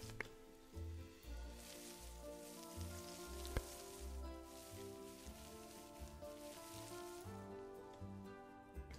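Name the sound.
rain in the video game Planet Zoo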